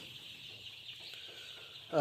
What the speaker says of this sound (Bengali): আজকে হচ্ছে এই মুরগির এই বাচ্চার হচ্ছে আজকে দশ দিন বয়স